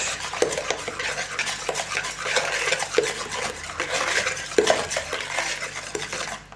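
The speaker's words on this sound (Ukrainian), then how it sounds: "знову перемішую" Rhythmic scraping and clinking of a utensil stirring thick batter of eggs and sour cream in a bowl, close and repetitive with occasional sharper knocks against the side.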